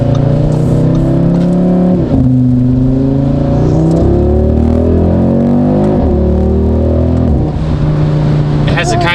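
A 2022 Audi RS3 with a new aftermarket exhaust, stock and untuned, revs and accelerates loudly and close by, engine pitch repeatedly climbing through gears with brief drops between shifts.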